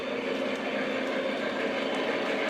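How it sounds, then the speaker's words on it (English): Model railroad trains running on a layout track near a horseshoe curve, giving a steady, continuous rolling rumble and rattle that stays even and close throughout, with no voices. "I'm probably gonna run the trains here for just a few more minutes"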